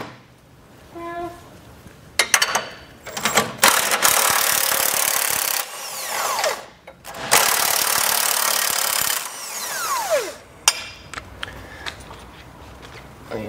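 A 24 mm socket on a ratchet loosens and removes front hitch mounting hardware on a 2021 vehicle, giving clicking metal bursts and longer broadband grinding runs with short pauses, loud and close, with no talking.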